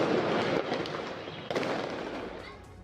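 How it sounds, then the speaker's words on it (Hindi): Firecrackers bursting during street celebrations, a dense continuous crackle of pops with a sharper burst midway, loud and close throughout. "तो ये देखिए, पटाखे फोड़कर भी सेलिब्रेट किया गया है।"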